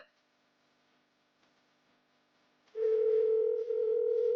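After near silence, a phone's continuous dial tone starts abruptly and holds steady and loud, with a brief dip partway through.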